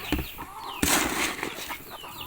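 Chickens and ducks flap their wings in a burst of flutter, with clucking and scattered bird calls, close by in a backyard setting.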